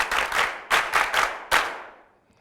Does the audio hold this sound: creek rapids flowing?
no